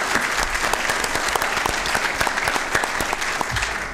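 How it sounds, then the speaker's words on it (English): An audience at a Board of Supervisors meeting gives Aaron another round of applause, close, crisp clapping from a modest crowd that runs evenly throughout with individual claps distinct. "one more round of applause for Aaron"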